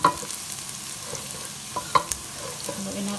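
Garlic stirred as it fries in a pan, a soft steady sizzle with a few light scraping clicks of the utensil against the pan, no one speaking.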